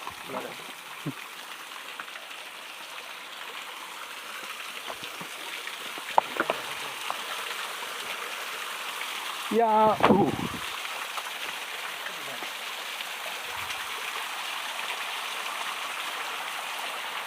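Small village hillside waterfall stream after rain, a faint steady hiss of flowing water running throughout, with a brief burst of speech and a few soft knocks partway through.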